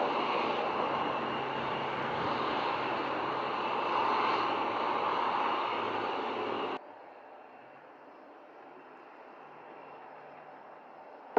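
Airplane arriving at Montego Bay airport in Jamaica, a loud broad engine roar sustained for several seconds close by, then dropping abruptly to a faint distant hum.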